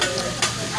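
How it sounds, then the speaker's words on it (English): Eggs stirred and scrambled on a hot hibachi grill at a steakhouse, a steady close sizzle with scraping stir strokes, brief and continuous with no talk. "And now he's mixing them up together. The eggs."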